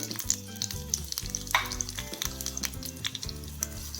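Coriander seeds frying in oil for a tomato-coriander chutney, a steady close sizzle with faint crackles and a few light clinks of a spoon, no voices.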